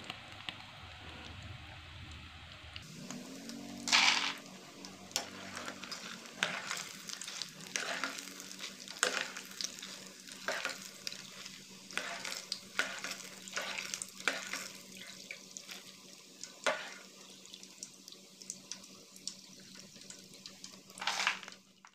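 Peanuts fry in hot oil for garlic peanuts, a steady close sizzle punctuated by repeated scraping and stirring knocks of a utensil in the pan, with no talking.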